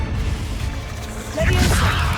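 A Confringo blasting curse strikes in the video game Hogwarts Legacy with a sudden loud crash and burst about midway, swelling out of steady game background noise.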